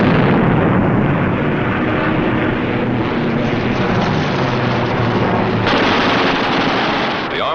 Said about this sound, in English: With the touch of the finger on the stick, a camera and 8 machine guns are put into action